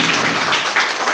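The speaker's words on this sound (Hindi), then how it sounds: "जोरदार तालियां सिरसा जी के लिए" A brief burst of applause from an audience at a live public event, dense clapping that fills the short moment.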